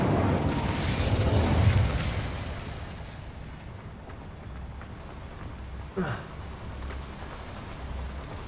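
An Incendio fire spell is cast in Hogwarts Legacy, a fiery whoosh that swells to a roar and fades into a steady crackling rumble, with one sharp burst partway through and game ambience continuing underneath.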